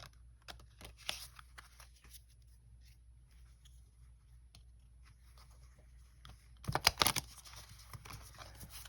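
A brand-new deck of long, narrow tarot cards, slightly heavier than poker cards, is handled and shuffled up close, giving quiet scattered rustles and flicks that build to a louder riffling burst near the end.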